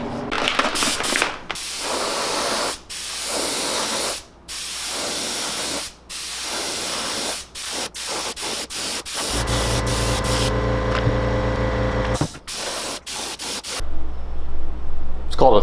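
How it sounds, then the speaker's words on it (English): An airbrush sprays paint onto a crankbait lure in repeated hissing bursts of a few seconds each with short pauses between, then a longer steady spray and a few final short bursts. "I always run some isopropyl alcohol through the airbrush right before every paint session"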